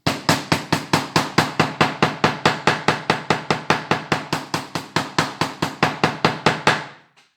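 A hammer taps glued leather pieces together for saddle stitching, about two dozen even, crisp knocks in a steady rhythm, close and clear, stopping after roughly seven seconds.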